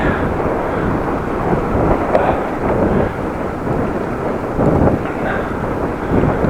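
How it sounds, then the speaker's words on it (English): Headwind roaring across a microphone while cycling through the city of Groningen, a loud continuous buffeting rumble that surges in gusts and fills the whole clip, with no voices. "Little headwind."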